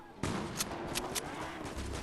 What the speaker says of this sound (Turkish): Bak silah sesleri şuradan geliyor.